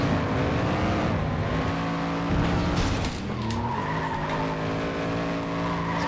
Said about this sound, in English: I'm trying to learn the limits of this race car to know exactly how far I can push this rear engine European-looking car.